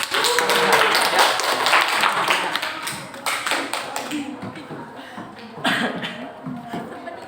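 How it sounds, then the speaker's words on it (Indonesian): A classroom claps for a student presentation group, with scattered hand claps and tapping mixed under overlapping voices, loud and near throughout. "Berikan aplaus untuk kelompok 3."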